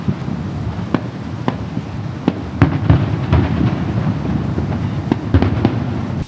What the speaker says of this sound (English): So I live on the 45th floor, so you can just see fireworks for miles.